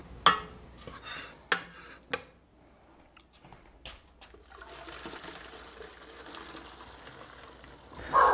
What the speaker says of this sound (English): we're just gonna pour the noodles in